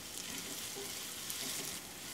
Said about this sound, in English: As soon as these onions are a little cooked down, start to brown a little bit.